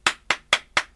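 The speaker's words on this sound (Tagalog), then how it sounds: "Nagpalakpak ako." Four sharp, evenly spaced hand claps at a brisk steady rhythm, close and loud, alone with no talk, in an Ilocano radio comedy drama.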